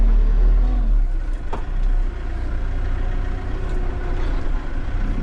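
A tractor with a box blade on the back drives over freshly dropped dirt, its engine a steady, loud, close low rumble that holds throughout.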